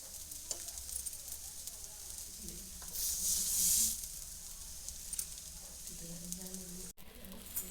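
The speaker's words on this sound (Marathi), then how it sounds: "आपण हे तव्यावरती आंबोळी घालून घेणार आहोत" Amboli batter sizzles on a hot tawa in a steady close hiss that swells into a louder burst partway through before settling back, with faint speech in the background.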